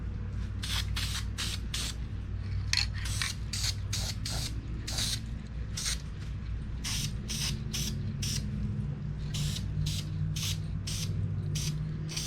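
Spray paint hissing onto the exterior of an AMT Peterbilt 352 Pacemaker cabover model truck kit, a string of short, sharp bursts in irregular rhythm over a steady low hum.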